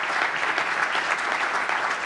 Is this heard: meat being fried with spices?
no